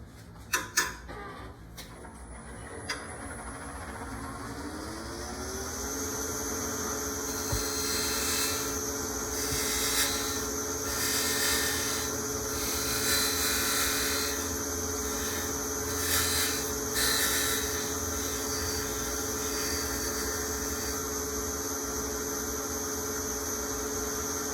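A lathe turns a ring with a steady motor hum and whine running throughout, while the cutting tool adds clicks at the start and then intermittent higher scraping as it works the piece.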